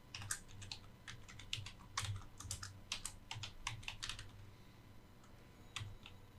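Typing on a computer keyboard, a quick irregular run of close key clicks in bursts that thin out toward the end, faint and alone.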